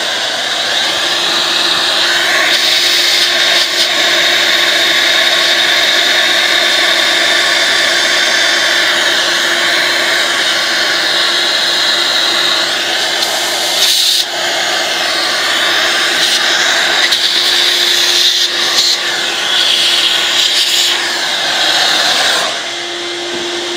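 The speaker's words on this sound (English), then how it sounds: "so I'm going to turn on the vacuum now." A vacuum cleaner runs continuously while cleaning around a Mercedes M112 V6 / M113 V8 engine oil breather, a loud, close, steady whine with pitch and airflow shifting briefly as the nozzle moves, then dropping near the end.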